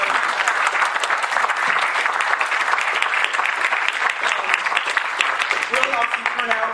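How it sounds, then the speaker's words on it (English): Applause from an audience at an energy-industry presentation, a steady, moderately loud wash of clapping that runs throughout, with some voices faintly mixed in near the end. "I think they deserve a round of applause."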